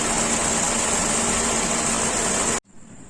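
Wuling Cortez car engine idling after a radiator coolant change, a steady, loud, continuous hum and whir close by that cuts off abruptly near the end.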